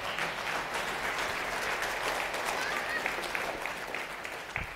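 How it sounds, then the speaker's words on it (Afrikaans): A church congregation claps their hands for the Lord, a steady, moderately distant roll of many hands that keeps an even level throughout with a faint voice partly mixed in. "Gee die Here lekker hande klap."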